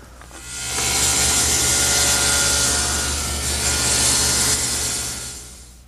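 A table saw cutting a bevel in wood for an armoire entertainment center, a loud sustained whining rasp that rises quickly, holds steady for several seconds, then winds down, heard alone.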